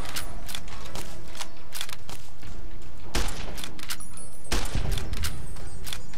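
Gunfire from the video game Fallout: New Vegas cracks out in loud, irregular bursts of shots with sharp clattering impacts, close and dense throughout, with no talking.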